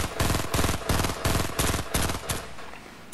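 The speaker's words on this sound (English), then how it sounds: "No, it's another burst assault rifle" A burst assault rifle in Fortnite fires roughly seven evenly spaced, loud bursts, each a rapid clatter of shots, then stops with a short fading tail.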